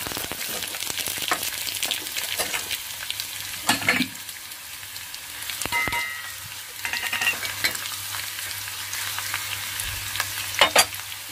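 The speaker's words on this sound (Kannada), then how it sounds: "ಒಗ್ಗರಣೆಗೆ ಎಣ್ಣೆ ಹಾಕಿದೀನಿ ಈಗ ಸಾಸಿವೆ ಹಾಕ್ತಾ ಇದ್ದೀನಿ" Mustard seeds are tempered in hot oil over a low flame for a tamarind-shoot saaru, giving a close crackling sizzle with irregular sharp pops and bursts and no speech.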